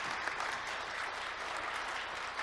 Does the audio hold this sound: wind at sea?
no